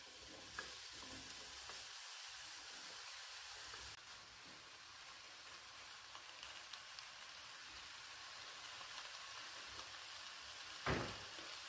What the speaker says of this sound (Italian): Possiamo trasferirci sui fornelli e procedere alla cottura delle melanzane. Ho già messo sul gas una padella antiaderente.